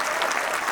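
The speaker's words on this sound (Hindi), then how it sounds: "एक बार जोरदार तालियां बजाइए" Loud, dense audience applause fills a Hindi comedy poetry show (hasya kavi sammelan) with steady, continuous clapping and no pauses.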